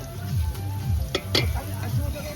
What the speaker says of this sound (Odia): ଏବେ ଆମର ଅଦା ରସୁଣ ପେଷ୍ଟଟା ପଡୁଛି ଦେଖନ୍ତୁ।